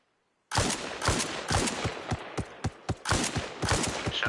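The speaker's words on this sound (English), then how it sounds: "Shots fired within combat." Combat gunfire in a Gogland operation, a rapid run of sharp, close shots in quick bursts with short gaps, loud and clear, with no talking.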